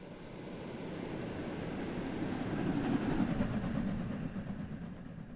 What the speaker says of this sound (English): I'm gonna turn the train sim sound up just a little bit because I like when you can really hear it when we go by.